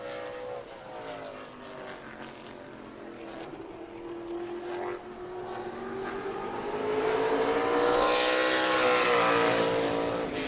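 A super late model race car runs a qualifying lap on an oval track, its engine note rising and falling as it passes, building to a louder, higher whine near the end.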